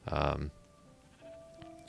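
A single loud sheep bleat in the Minecraft video game, close and sharp at the start, followed by quiet background game tones.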